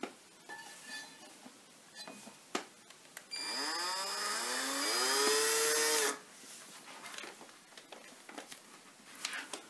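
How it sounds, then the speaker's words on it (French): A small drill bit boring holes in a clay pottery piece: a few faint knocks, then about three seconds of loud, steady motor whine that rises in pitch before cutting off abruptly. "je vais prendre une mèche plus petite et percer en quinconce"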